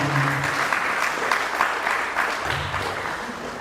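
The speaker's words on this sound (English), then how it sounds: "So please let us clap for Adminex here." Applause for Adminex at a Catholic schools awards ceremony, a dense round of clapping that stays fairly even, with a brief voice at the start and again near the end.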